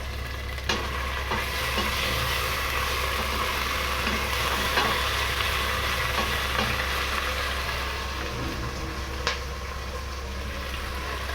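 Bay leaves, ginger garlic paste and yogurt fry in a hot pan, a steady close sizzle running throughout with a few faint clicks and no talking.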